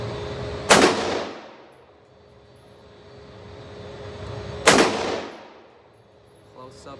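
Two loud, close gunshots fired at a shooting range, spaced about four seconds apart, each a sharp crack with a ringing decay, over steady outdoor background noise.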